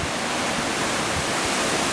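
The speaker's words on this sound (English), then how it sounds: "from this windstorm from hell" Roaring, unbroken windstorm in Walla Walla blasts loud and close for the whole moment, a dense rushing wash with no voices.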